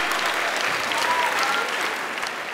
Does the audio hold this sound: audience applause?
yes